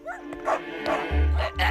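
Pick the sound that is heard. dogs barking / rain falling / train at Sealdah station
dogs barking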